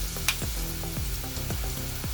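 Kara boondi batter being dropped a little at a time into hot oil, with a continuous close frying sizzle and a few brief bubbling bursts as each portion hits the oil.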